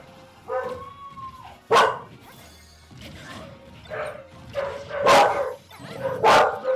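Dogs bark indoors in loud, close bursts, with sharp single barks and clusters separated by short pauses, and a whine rising in between.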